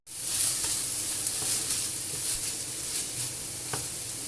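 Chopped vegetables for potato kebabs sizzle and fry steadily in a hot pan, with a continuous close hiss broken by a few soft stirring clicks and no talk.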